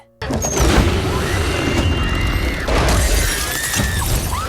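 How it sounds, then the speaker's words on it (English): A werewolf smashing up a car in the 2025 Wolf Man film, a loud, dense crash of shattering glass and crunching metal with booming impacts layered over a continuous heavy soundtrack rumble. "The werewolf smashes up the car, forcing the family to flee and climb on top of a greenhouse"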